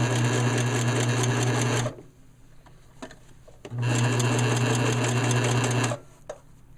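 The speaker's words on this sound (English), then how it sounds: "now I'm gonna back this thing up. This is what they call locking the thread." A sewing machine backstitches to lock the thread while sewing a DIY tree tent, running in two loud, steady bursts of about two seconds each with a quiet pause between them.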